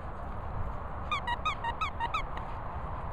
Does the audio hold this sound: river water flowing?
no